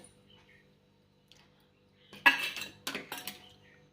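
A spoon stirs and scrapes a barnyard millet ladoo mixture with ghee in a pan, two short clattering bursts after near silence, close and moderately loud.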